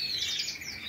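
Small pet birds, kept in cages for song contests, chirp near a water feeder in a steady, bright twittering that fills the second without voices.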